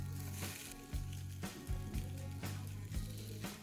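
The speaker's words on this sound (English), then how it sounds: "place the slices directly onto your preheated waffle maker" Bread slices sizzling on the hot plates of a preheated waffle maker, a soft steady crackle with a few sharper clicks and knocks layered over a low hum, fairly quiet and close.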